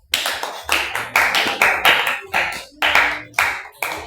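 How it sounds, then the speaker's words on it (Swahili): A church congregation claps in a steady rhythm, roughly two to three crisp, loud claps per second, with no talk over it. "Pigeni makofi."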